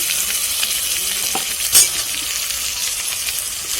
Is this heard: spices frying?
yes